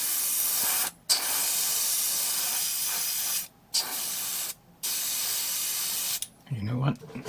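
An airbrush driven by a compressor sprays paint on a Gundam model in loud, steady hissing bursts broken by short pauses, before it sputters out and a voice speaks at the end.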